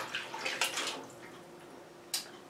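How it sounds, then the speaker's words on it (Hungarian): Water splashes and pours into a baking tray to soak it, a few short bursts of gushing and a final brief splash, close and moderately quiet. "ahhoz, hogy beáztassam vele a tepsimet, tökéletes lesz"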